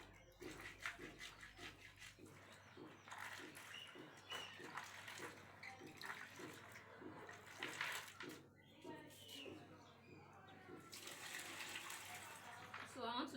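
Water sloshes and splashes in a container as peeled beans for moi moi are washed by hand, with a steady rhythmic swishing close by while a person talks over it.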